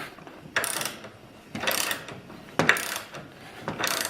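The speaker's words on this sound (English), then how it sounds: "I'm turning this bolt into the RivNut, and that will pull and expand it" A bolt being turned by hand into a RivNut to pull and expand it, giving four separate bursts of close ratcheting clicks with brief quiet gaps between them.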